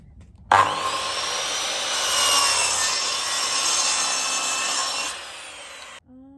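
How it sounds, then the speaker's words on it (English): A saw makes a bevel cut through MDF board for a hidden compartment bottom, producing one loud, continuous rasping cut of about five seconds that starts abruptly and ends with a short clatter. "bevel cut"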